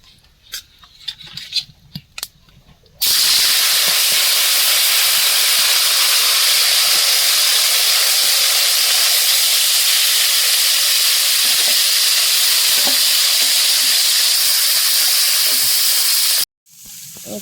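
Chicken pakora battered with salt, turmeric and chilli powder frying in hot oil, a loud steady sizzle that starts abruptly and runs unbroken for about thirteen seconds before cutting off, with faint clatter just before it begins.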